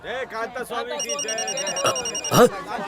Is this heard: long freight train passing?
no